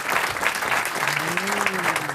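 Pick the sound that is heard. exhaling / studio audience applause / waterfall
studio audience applause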